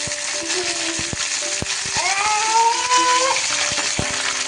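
Mustard seeds, fenugreek and dried red chillies frying in oil for cucumber pickle, a soft hiss under sharp clicks and knocks of a utensil against the pan, plus a brief squeaky scrape, close with no talking.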